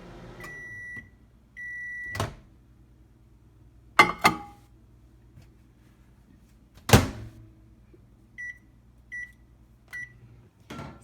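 A microwave oven heating marshmallows: quiet humming run with short beeps, sharp door clicks and thumps as it is opened and shut, then a final series of beeps.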